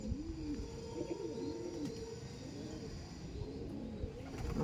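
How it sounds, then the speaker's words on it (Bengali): Andhra pigeons, a male and female pair, coo in soft, rolling repeated phrases close by, overlapping one another steadily with a faint background hiss. "এটা হলো মেল পায়রা"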